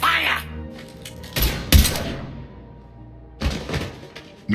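Mass Effect 3 game gunfire comes in a few heavy, booming bursts with thuds and crackling impacts, separated by short quieter gaps.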